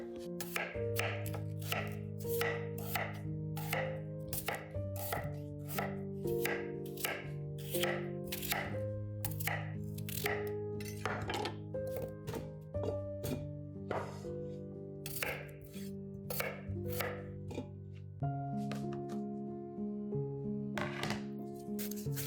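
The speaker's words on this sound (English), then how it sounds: "cutting and cubing 9 to 12 potatoes" Rapid rhythmic knife chops on a cutting board as nine to twelve potatoes are cut and cubed, loud and close, steady strokes continuing alone over a faint musical backdrop.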